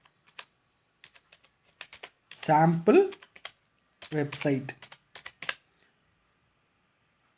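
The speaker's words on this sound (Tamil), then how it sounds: "இப்போ நான் அப்படியே டைப் பண்ண போகிறேன்" Someone types on a computer keyboard in scattered, sharp clicks and short runs of keystrokes. A person speaks briefly in the middle.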